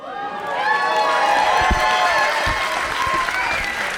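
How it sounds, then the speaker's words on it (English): Audience applause and cheering for BATFOY, a 15-year-old player at the 2019 Classic Tetris World Championship, steady and loud throughout with a voice speaking over the crowd noise. "Give him a round of applause."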